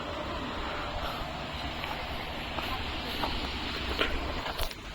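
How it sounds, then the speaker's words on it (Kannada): Sea at Gokarna's Half Moon Beach with a boat passing offshore, a continuous broad wash of waves and wind with a faint distant motor blended in, with a few soft knocks near the end. "ಅಲ್ಲಿ ನೋಡಿ ಒಂದು ಬೋಟ್ ಹೋಗ್ತಾಯಿದೆ"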